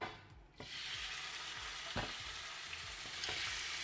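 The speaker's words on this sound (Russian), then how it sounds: "Мясо буду обжаривать на подсолнечном масле." Meat fries in sunflower oil in a pan, a dense steady sizzle up close with a few soft scrapes of stirring, no voices.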